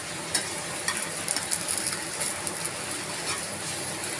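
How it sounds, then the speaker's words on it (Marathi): Oil sizzles steadily around an egg dosa cooking in a pan, a soft continuous crackle with a few small pops, close and fairly quiet, no talking. "थोडंसं वरतून तेल घालून घेऊयात"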